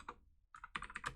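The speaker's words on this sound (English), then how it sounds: "let me just type it in with you" Keys clatter in a quick, uneven run on a computer keyboard while someone types code, a short pause followed by a dense burst of close, crisp clicks with no talking.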